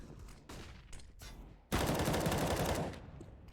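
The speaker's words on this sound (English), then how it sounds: "PKL and Biguzera laying some more suppressive fire and utility nades here at mid." Sustained automatic gunfire rattles in a competitive online shooter match, with scattered shots first and then a loud, dense burst lasting more than a second.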